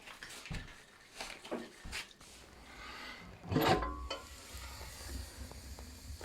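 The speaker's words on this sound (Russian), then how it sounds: "Все шипит, дрова сыроватые, но видите, как розжиг работает." Damp firewood hisses and crackles as it catches in a wood stove. The sizzling is soft and continuous, with scattered pops and one brief louder crackle midway.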